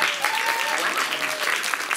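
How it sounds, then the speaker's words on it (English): A book festival audience bursts into applause after an author names her novel, loud close clapping from a crowd that stays full throughout, with a faint tonal whistle-like sound running underneath. "nice to get applause for your title"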